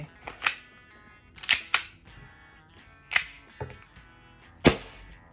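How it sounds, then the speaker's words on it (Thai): A steel-version EMG John Wick 3 TTI STI 2011 pistol dry-fired without ammunition gives about six sharp, close metallic snaps and clacks at irregular intervals, each with a short ringing tail, against a quiet background. "ไม่มีกระสุนลองมายิงเทสให้รับชมว่ายิงได้ไหม"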